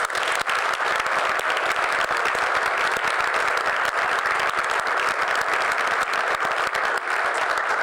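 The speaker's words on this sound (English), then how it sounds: "I'd like to invite everybody to please applaud all the men and women of this city" Audience at a Palo Alto city council meeting gives sustained applause, a dense, even roar of many hands clapping that holds steady and loud from start to finish.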